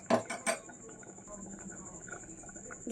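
Pot lid set onto a pressure cooker holding gravy, two sharp metallic clanks close together at the start, followed by quieter kitchen rattles and faint speech in the background.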